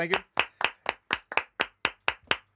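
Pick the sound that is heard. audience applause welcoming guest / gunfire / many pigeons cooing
audience applause welcoming guest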